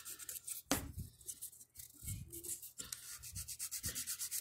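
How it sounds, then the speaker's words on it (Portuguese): Worn, old sandpaper sanding a billiard cue tip up close, making soft rasping rubbing strokes in a quick repeated rhythm, with a few sharper scrapes and no speech. "A lixa tá bem desgastada e eu tô conseguindo tirar com ela."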